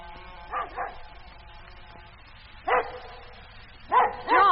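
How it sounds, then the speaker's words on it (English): A dog barks in bursts: a double bark, a pause, then a single bark, then two more barks at the end, fairly close and clear over quiet background. "What's the matter with the dog? He's been going on like that for nearly 20 minutes."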